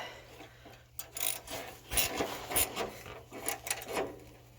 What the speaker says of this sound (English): So I'm going to tighten these up with my 12mm socket.